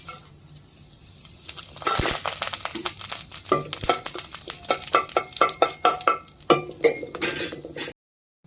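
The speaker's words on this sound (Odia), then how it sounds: "ଜିରା ଆମର ଫୁଟିଗଲାଣି" Cumin seeds, a dried chili, two bay leaves and cinnamon crackle and sputter in hot oil, nearby and building into dense, rapid popping and sizzling with occasional spoon stirs, ending abruptly.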